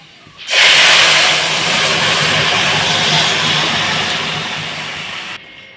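Garlic tempering hitting hot oil in a pan for lentils with jute leaves: a loud, abrupt sizzle that bursts in and holds as a steady close hiss for about five seconds, then cuts off sharply.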